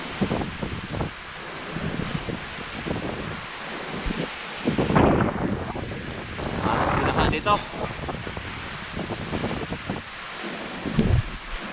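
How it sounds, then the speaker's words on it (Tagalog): Strong gusting typhoon wind roars and buffets the microphone throughout, with rustling debris and a voice talking over the storm noise. "sobra pa malakas po po yung hangin"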